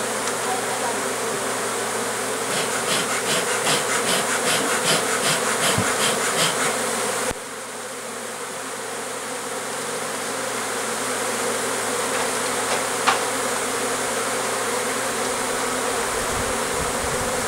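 A dense swarm of honeybees buzzes loudly and continuously close by during a removal, the steady drone mixed with intermittent clicks and handling noises.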